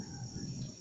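Crickets on an Indonesian cricket farm keep up a dense, continuous high chirring that holds steady over a low background hum for under a second.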